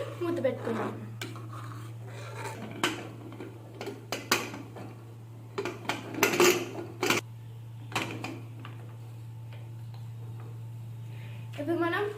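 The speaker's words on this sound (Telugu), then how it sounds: "దీన్ని ఒకసారి కలుపుకొని మూత పెట్టుకుందాం." Rice and milk are stirred in a pressure cooker, with scattered metallic clinks and scrapes of a spoon against the pot, then a lid clatters on, all over a steady low hum with intermittent sharp knocks.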